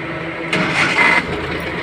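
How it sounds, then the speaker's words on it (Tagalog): A car engine cranks and catches about halfway through, settling into a steady idle, with the engine turned on while troubleshooting a faulty temperature gauge. "Ito guys, pinandar natin yung makina."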